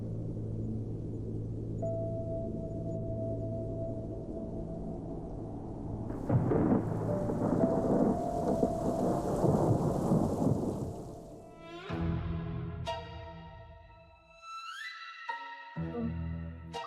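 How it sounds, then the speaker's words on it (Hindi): A night thunderstorm: deep rolling thunder rumbles under steady rain, swelling into a loud crack midway, then the storm gives way to sharp ringing tonal hits near the end. "लगता है बारिश होने वाली है।"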